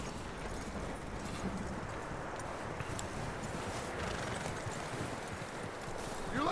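A horse walks in Red Dead Redemption 2, its hooves clip-clopping steadily and softly under a continuous wash of ambient outdoor noise.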